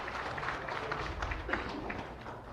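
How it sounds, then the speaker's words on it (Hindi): An audience applauds steadily at a live stage event in Bastar where the Chief Minister is being welcomed, dense clapping running continuously at moderate distance without a break. "तालियां लगातार बजते रहे।"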